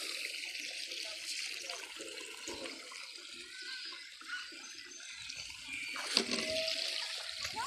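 Water running and pouring, a gushing, splashing flow close by that swells and surges near the end, heard without talk.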